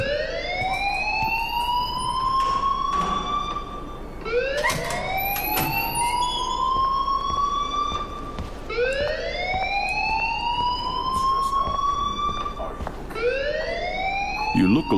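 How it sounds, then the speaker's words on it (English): In the Life Is Strange video game, a loud alarm wails in repeated rising sweeps, each lasting about four seconds. The cycles continue steadily and dominate the scene, with background noise beneath. "please turn off that alarm since that's your job"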